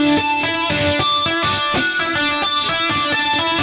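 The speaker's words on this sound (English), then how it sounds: "this is where we start with our tapping harmonics" Electric guitar tapped harmonics ring out in a quick, even sequence of bright bell-like chiming notes, loud and sustained over one another with no speech.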